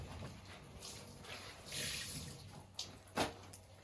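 Quiet splashing and sloshing of hand-washed clothes in water, including jeans and a T-shirt, with a couple of brief sharper splashes near the end and no talk.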